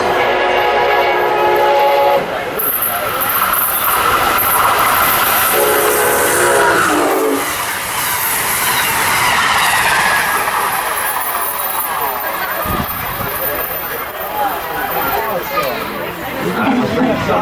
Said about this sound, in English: it does sound like we have an Amtrak train passing by